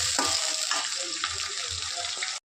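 Tomato dropped into a pan of frying onions, green chillies and curry leaves, giving a steady close sizzle with a few soft stirring knocks and a faint low hum throughout.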